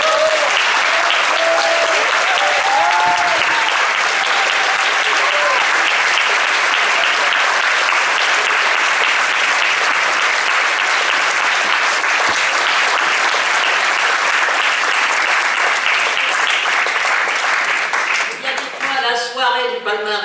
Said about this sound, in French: Merci d'applaudir Madame Marie-Thérèse Oranin.